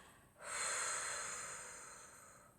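One deep, close exhale during a guided relaxation exercise: a sudden airy rush of breath that starts strong and slowly tapers off, alone in a quiet room.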